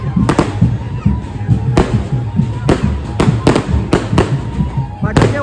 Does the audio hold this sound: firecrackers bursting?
yes